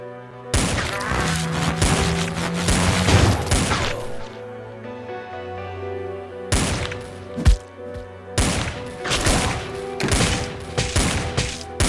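Revolver gunfire in the zombie shooter game Dead Ahead Zombie Warfare: loud bursts of rapid shots in two clusters, with a quieter lull between them.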